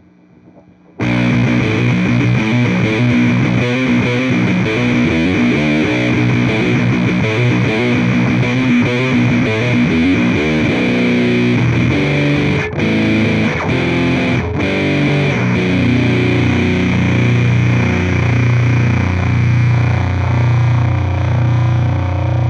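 An electric guitar runs through a modified Big Muff Pi fuzz pedal (DBE Siberian) fitted with LED clipping diodes, giving a thick, saturated, sustained distortion. Loud riffs and held chords play continuously for about twenty seconds, with no talking.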